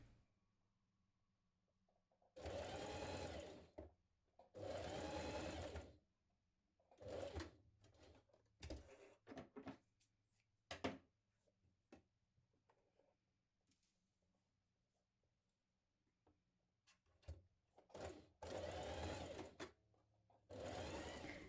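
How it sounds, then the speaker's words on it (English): A sewing machine stitches around the armhole of a jumpsuit in several bursts of steady whirring, two of them long, with pauses and small handling clicks and rustles between runs. "we're going to stitch along here, all the way around the armhole, up, round the front and down the other side"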